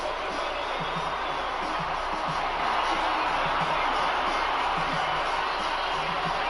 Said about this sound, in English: this crowd does not like Shane O'Mac